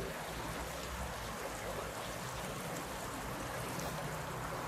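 River current flowing beneath an old medieval stone bridge, a constant broadband rush and gurgle of water, close and steady from start to end with no talk.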